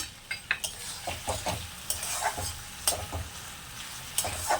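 Fish masala for a tengra fish curry being stirred in a pan after a splash of water, with irregular close scrapes and taps of a spoon against the pan over a quiet sizzle, no voices.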